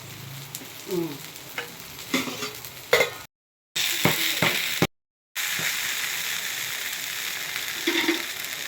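Tomato uttapam batter sizzles steadily on a hot griddle over a gas stove, a close, continuous frying hiss broken by brief scraping and stirring sounds, with two short silent gaps.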